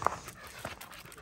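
Dog panting quickly near a handheld camera, with a few faint whimpers and soft breathy bursts, low and close in a quiet room.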